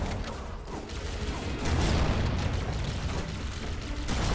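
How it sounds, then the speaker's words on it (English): A grenade blast in a shooter game, a heavy booming rumble that swells and lingers with low-end roar and mechanical clatter, loud and close, with no talking. "Oh, grenade."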